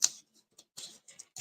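Paper being cut with scissors while making a pop-up card: a sharp snip, then a few short crisp cuts in quick succession, close and fairly quiet.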